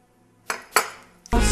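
Three bright clinks of crockery striking together, spaced apart, followed by a louder clatter of dishes being set down.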